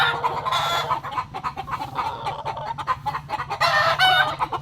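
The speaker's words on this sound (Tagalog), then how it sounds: "Native po ito na manok." Several native chickens cluck and squawk nearby in quick, overlapping bursts, with a steady low hum in the background.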